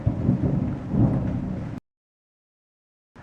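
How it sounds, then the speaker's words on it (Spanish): Deep rolling thunder from a storm over Quito rumbles loudly with rain for under two seconds, then cuts to silence. "Ahí está otro trueno, ¿sí escuchan?"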